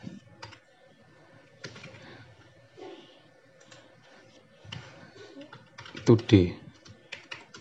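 Someone types on a computer keyboard while working in Excel, with sparse soft key taps that build into a quick flurry of clicks near the end; a person speaks briefly.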